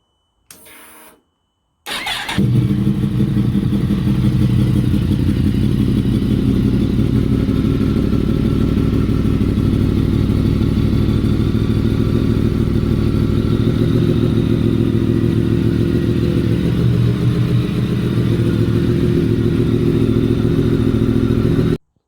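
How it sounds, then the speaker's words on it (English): A 2017 Yamaha MT-10 motorcycle with an Akrapovic slip-on exhaust and a decat pipe cold-starts after a couple of brief cranks, then settles into a loud, steady, throaty idle that runs close by without a break. "Yamaha mt10 2017 acropovic slip-on and low Vinci decat sound."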